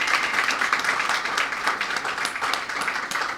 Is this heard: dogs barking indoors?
no